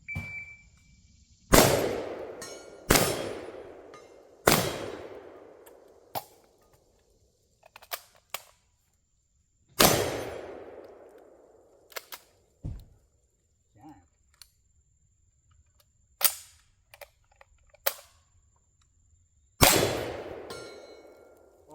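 Semi-automatic and pump-action shotguns fire at a shooting range, loud sharp blasts spaced irregularly with lighter clanks and clicks of cycling actions between them, and voices talking in the pauses.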